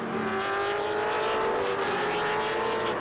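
TA2 series race car at World Wide Technology Raceway, engine heard onboard with a sustained high-revving whine that climbs and shifts steadily, loud and close throughout.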